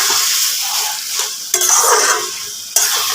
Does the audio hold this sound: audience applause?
no